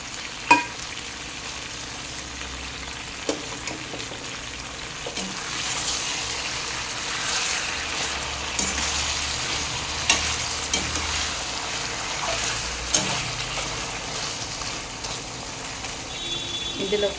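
Chicken fried rice frying in a pan, a steady broadband sizzle running throughout with occasional sharp clinks and stirring knocks, fairly close and continuous, with no talking over it.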